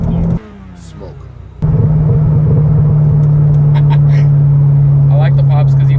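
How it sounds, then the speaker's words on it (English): Chevrolet C6 Corvette exhaust pops and crackles on a downshift: a loud, steady engine drone drops briefly, then returns at full strength, with short crackling bursts on top and a voice talking in the car. "When you downshift and it just pops like that, it's crazy."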